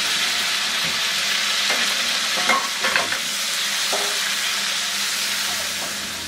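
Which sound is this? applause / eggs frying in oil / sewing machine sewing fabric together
eggs frying in oil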